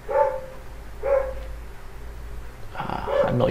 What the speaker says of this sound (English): a million dogs.